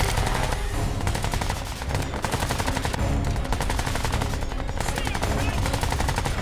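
Enemies firing guns into the air in Crysis 3, dense continuous automatic gunfire with overlapping rapid bursts, loud and close throughout.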